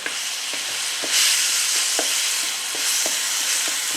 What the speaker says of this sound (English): So you just want to toss that together.